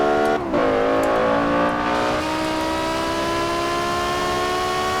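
A BMW M5 engine in Forza Horizon 4 revs hard, its pitch rising steadily through a sustained, loud, smooth pull with a brief dip near the start and no talking over it.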